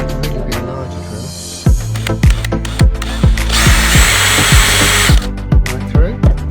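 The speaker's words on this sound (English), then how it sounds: "Now I'm going to drill a hole through." A power drill starts, revs and stops in a series of short bursts, then whines steadily while boring through material, close and loud.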